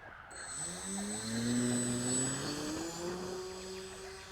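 An Eclipson Twin model plane taking off with half flaps, its twin propeller motors whining as the pitch climbs steadily, with a high thin tone above, sustained and fairly close, with no talking.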